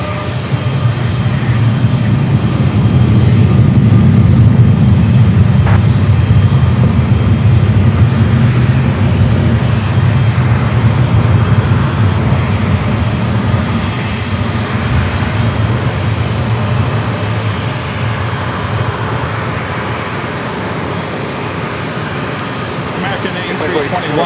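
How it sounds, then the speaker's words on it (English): An American Airlines A321 jet at San Diego airport gives a loud, sustained low engine roar that swells and then slowly eases as it passes, heard alone without talk. "American A321 heading back to Dallas Fort Worth, Texas."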